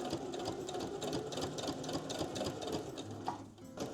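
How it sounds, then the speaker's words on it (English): A sewing machine runs steadily, stitching a fabric hammock onto a fabric doll book page, with a brief pause and shift near the end; no voices. "I'll take it to my machine, and I'm going to stitch the hammock on and the plants"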